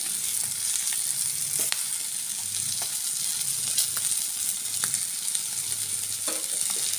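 Sardines and curry leaves fry in a pan with a steady, close hiss and crackle, loud throughout, with occasional sharper pops and spoon scrapes.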